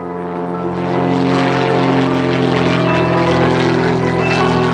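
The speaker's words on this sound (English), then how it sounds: "As you hear those 2 propeller blades fighting into the air as he slides across the sky." A 300-horsepower Skybolt biplane with a two-blade propeller performs at the Yarmouth airshow, giving a loud, steady, droning engine and propeller roar that holds throughout.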